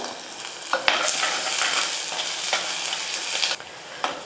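Garlic cloves, a large onion and curry leaves fry in hot oil, sizzling steadily and loudly for a few seconds while a spoon stirs and scrapes through the pan with several sharp clicks.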